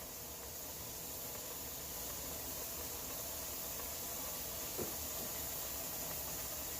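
A pressure cooker making chicken stock gives off a steady, faint hiss of escaping steam that holds evenly throughout with no talking.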